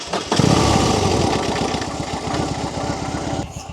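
A BMW R18 motorcycle's big boxer engine cranks and catches with a loud burst, then settles into a steady, loping idle with an even rhythmic pulse, close by and alone.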